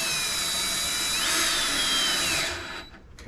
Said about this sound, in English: I got my drill on like a full blast.